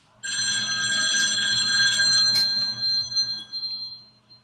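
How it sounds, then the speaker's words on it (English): A musician's phone rings during a live interview: a loud, steady electronic ring starts almost at once, sounds on for several seconds, then tapers into shorter pulses. "oh, that's the That's my gig. phone."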